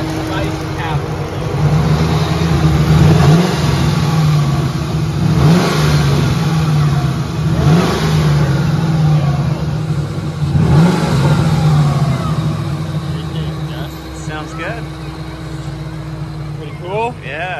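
A 2003 Ford Mustang Mach 1 V8 with a 38k-mile engine, idling loudly and revving in several sharp bursts close by, with people chatting nearby.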